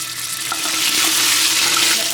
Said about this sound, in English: After I poured in the olive oil, I am now taking some tomato paste